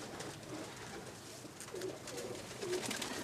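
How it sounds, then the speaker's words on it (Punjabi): Domestic pigeons coo softly, several brief low throaty calls spaced across the moment, faint against a hissy, noisy background. "ਤੁਹਾਡੇ ਬੜੇ ਅੱਛੇ ਕਬੂਤਰ ਹਨ"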